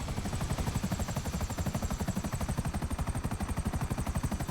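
Helicopter in Grand Theft Auto V, with a steady, rapid rotor thump beating evenly throughout, close and fairly loud, with a whining engine tone above it and no talk.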